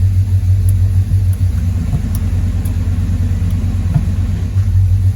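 A Chevrolet Monte Carlo engine idles close up, a loud, steady low rumble with a slight throb as it goes into gear, with no talk over it.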